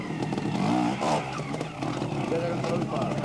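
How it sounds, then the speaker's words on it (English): A trials motorcycle at the 1990 Observed Trials World Championship in Globe, Arizona, balances on rocks and then gets bursts of throttle to climb. The engine rises and falls in sharp revs under steady commentary. "You have to balance on 2 rocks and then lots of throttle to shoot up the rock right in front of him now."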